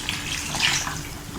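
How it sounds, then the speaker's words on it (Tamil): Water poured into mutton kuzhambu, a Tamil mutton curry, simmering in a pan; a brief, steady splashing pour close by, with no one talking. "கொஞ்சமாக தண்ணி ஆட் பண்ணிப்போம்."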